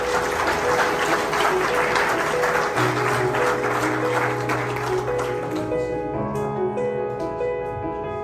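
Guests applaud at a wedding ceremony, a dense crowd clapping steadily and loudly, then thinning as sustained music tones rise underneath toward the end.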